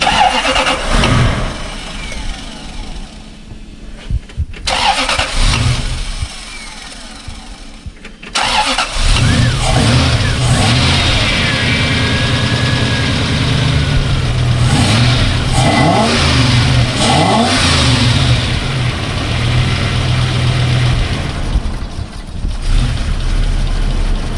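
A multi-cylinder engine, cold on a morning start, cranks and catches after a quieter stretch, then runs loud and close with repeated revving rises and falls over a steady idle.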